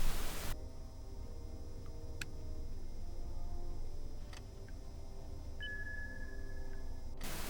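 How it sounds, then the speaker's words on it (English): Submarine echo sounder aboard a Type VIIC U-boat in the video game UBOAT, sending out sharp pings over a steady hiss of static and hum, with a longer tone near the end, no talking. "emitting loud pings and timing how long the ping takes to return from the seabed as an echo"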